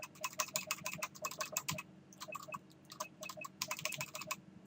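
Rapid clicks of arrow keys on a computer keyboard while adjusting numbers in a game-making program, close and crisp, in quick irregular bursts with a short pause midway.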